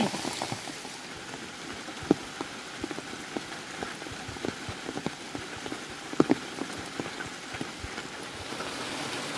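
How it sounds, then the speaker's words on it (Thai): Heavy rain falls outdoors during mushroom foraging, a dense, steady patter of drops on surfaces with scattered sharper close splats and taps throughout, with no voices. "ฝนตก"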